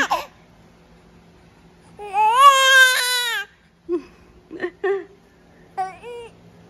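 A baby cries in a loud, wavering wail lasting over a second, followed by a few short whimpers and fussy bursts, close up in a quiet room.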